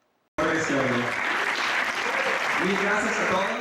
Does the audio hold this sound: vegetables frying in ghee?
no